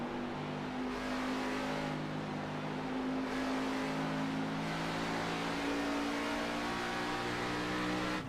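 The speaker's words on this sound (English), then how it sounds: "You can just hear how low the revs are as well." Race car engine at low revs in a racing video game on the Motegi circuit, a steady, droning hum that holds a low, even pitch throughout with no talk.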